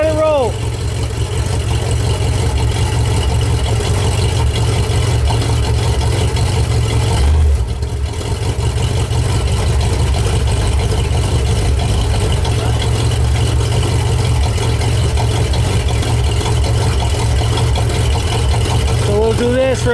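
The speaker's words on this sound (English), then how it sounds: "We're gonna leave the rear end spin, so it'll leave the fluid get through everything" A 1968 Ford LTD with a freshly installed 370 engine runs steadily in gear with the rear end spinning during break-in, giving a loud, constant low rumble that barely changes for the whole stretch, with a brief dip partway through.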